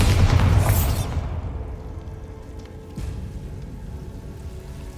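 In Hogwarts Legacy, a Bombarda spell explodes at once in a loud, close blast, then fades into a long rumbling tail with debris pattering down.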